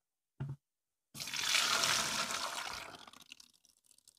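Tuba, nipa palm sap, poured out of a bamboo container, gushing in a steady splashing stream for about two seconds, then trickling off to a few faint drips after a brief knock at the start.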